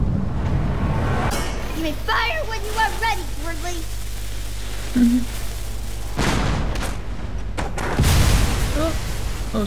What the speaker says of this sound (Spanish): Ostras, vaya cañonazo.